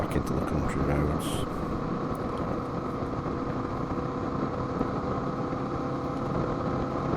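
A motorcycle ridden along the A625 toward country roads produces a steady, moderate engine rumble blended with constant wind roar, continuous and unchanging throughout.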